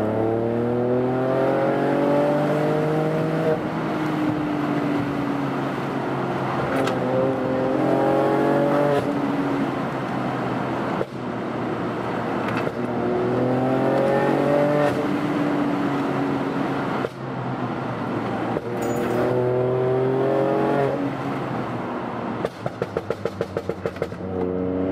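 The engine of a 200 HP stage 2 tuned Ford Fiesta with a 1-litre engine pulls hard through repeated gear changes, its loud rising drone climbing and dropping several times, with a rapid crackle of pops at the end.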